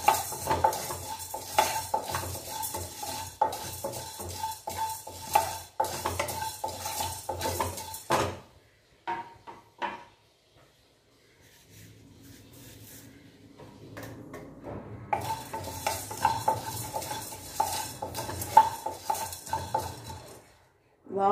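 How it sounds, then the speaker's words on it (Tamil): Whole spices are dry-roasted in a pan and stirred with a metal spoon, giving rapid scraping and clinking strokes up close, a quiet pause mid-way, then the stirring resumes with the same busy rhythm. "எல்லா பொருளையும் நல்லா வறுத்து சேர்த்துக்கோங்க."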